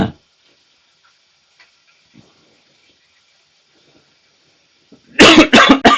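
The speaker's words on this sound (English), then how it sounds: "I've actually got a bit of a cough going on." A single loud, close cough bursts out near the end after a long stretch of near silence, with faint small clicks and taps in between.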